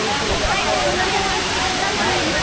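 A waterfall near Chiplun, Maharashtra, roaring loudly and steadily as a dense broadband rush of falling water close by, with voices faintly mixed beneath the torrent.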